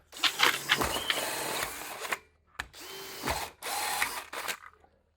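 A drill fitted with a carbide hole saw bores into thick steel in loud grinding bursts, stopping twice with short pauses between cuts.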